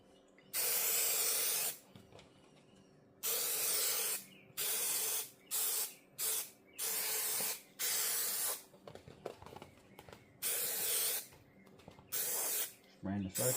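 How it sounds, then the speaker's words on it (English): A spray can mists over the top of a Rolls-Royce dashboard pad during a peeling-dashboard repair, giving about eight close, loud hissing bursts of varying length with short quiet gaps between them. "now I'm gonna spray on top of the pad as far back as I can go."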